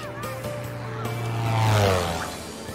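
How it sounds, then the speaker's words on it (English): A cartoon propeller plane flies past with a steady droning buzz that swells louder toward the middle and then fades slightly, heard alone without talk. "Bird Boy is flying his plane."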